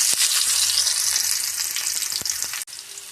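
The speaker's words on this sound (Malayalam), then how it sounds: "നമുക്കിനി ഇതിലേക്ക് കടുക് താളിച്ച് കൊടുക്കാം. എണ്ണ ഒഴിച്ച് കൊടുത്തിട്ടുണ്ട്. അതിന് കടുക് ചേർക്കാം." Mustard seeds and shallots tempering in hot oil crackle loudly and steadily, with scattered pops throughout, then the sizzle briefly drops near the end.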